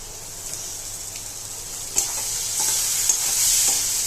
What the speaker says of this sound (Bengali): আমার মাছের মশলাটা ফ্রাই হয়ে আসছে।